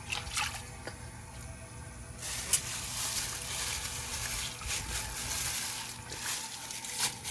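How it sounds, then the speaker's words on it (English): A 1959 American Standard one-piece toilet flushing, with rushing water and a steady siphoning gurgle, fairly quiet and continuous throughout. "The siphon on this toilet is really satisfying"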